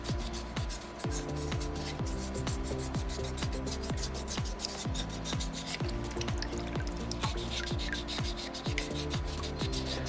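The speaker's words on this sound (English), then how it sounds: "Some of these smaller pieces, you can actually dislodge them as you're starting to sand it and smooth" Sandpaper rubs back and forth across a small soapstone Moai carving in steady, repeated strokes, a close, rhythmic scratchy rasp with slight wet grit, alone without talk.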